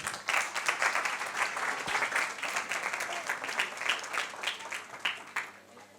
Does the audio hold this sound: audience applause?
yes